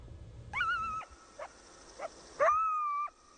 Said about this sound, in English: That is a sound you might hear from time to time, a coyote's howl.